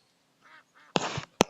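In a hunting video game, a duck lets out two loud, close quacks in quick succession after a few faint, soft sounds.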